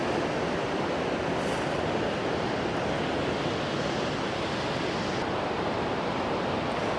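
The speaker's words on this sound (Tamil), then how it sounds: "தண்ணி நல்லா ஃபோர்ஸாகவே போகுது." A forceful Alpine stream rushes steadily beneath a footbridge in Austria, a dense, constant roar of water close by with no voices over it.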